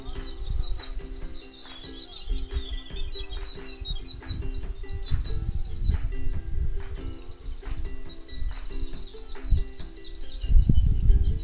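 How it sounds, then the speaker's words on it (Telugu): Birds chirp and call steadily amid open green crop fields between two villages in rural Andhra Pradesh, with a busy low rumble of outdoor background noise underneath and no talking. "పక్షుల కిలకిల రావాలతో భలే ఆహ్లాదంగా ఉంది"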